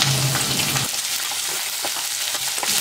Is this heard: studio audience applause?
no